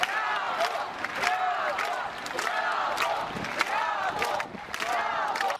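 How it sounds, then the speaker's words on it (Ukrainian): A crowd of mourners at a funeral in Kyiv's Baikove cemetery applauds and shouts bravo in waves, sustained clapping with rising cries that swell and fade across the clip. "Овації продовжились і на байковому кладовищі."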